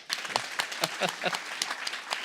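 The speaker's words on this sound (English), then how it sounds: "Everyone, please clap." Scattered clapping from a small audience at a Sunday gathering, after a young boy recites a verse; a thin, uneven patter of a few hands, moderately close, with some murmuring underneath.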